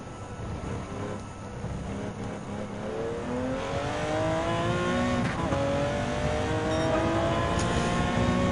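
A race car in Gran Turismo 7, racing at Le Mans in a Porsche esports event, drives through a chicane, its engine rising in pitch as it accelerates steadily, loud and close with no talk.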